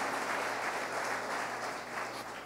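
A church congregation in Barinas, Venezuela, applauds in praise, a steady, dense wash of clapping from many people that holds level for a couple of seconds and fades slightly near the end.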